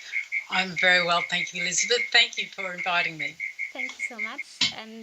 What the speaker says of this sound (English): we said we hear a lot of crickets in the background